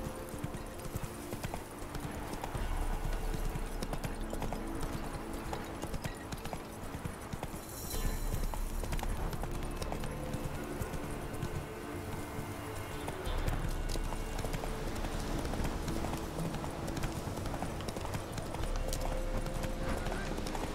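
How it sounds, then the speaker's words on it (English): A horse trots along in The Witcher 3, its hooves giving a steady, rhythmic clip-clop over the whole stretch. The hoofbeats are layered with game ambience and occasional voices. "Whoa there, Roach."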